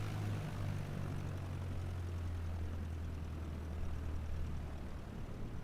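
A propeller airplane engine drones steadily and loudly throughout, a continuous low hum with strong tonal bands, heard close with no voices and little change in level.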